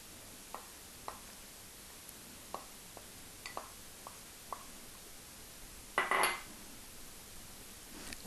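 Fish with lemon and ginger stirred in a dish, a series of light utensil taps and clinks spaced a second or so apart, then a brief louder scrape near the end, all close and quiet.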